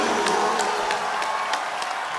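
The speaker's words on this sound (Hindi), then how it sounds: "जोरदार तालियां" A studio audience applauds and cheers for the guests, Padma Shri Ustad Puran Chand Wadali, Pyarelal Wadali and Lakhwinder Wadali, on a comedy show: dense, steady clapping with whoops on top, loud and continuous throughout.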